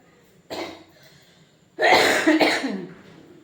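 A person coughs indoors at home in two bursts: a short single cough, then after a pause a longer, harsher fit of several coughs fading into breathy rasps.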